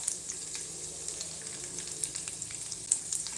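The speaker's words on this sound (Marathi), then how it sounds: "लसूण छान ब्राऊन गोल्डन ब्राऊन कलर येतपर्यंत होऊ द्यायचा" Garlic added to cumin frying in hot oil in a home kitchen pan gives a steady, faint sizzle with small crackles and pops, no talking.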